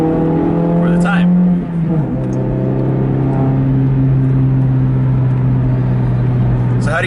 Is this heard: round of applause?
no